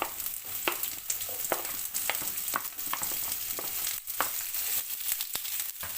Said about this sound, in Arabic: غنديرو على نار هادئه ونديرو شويه ديال الزيت البلديه حتى تدفى، وغنضيفو فيها البصل اللي شنفنا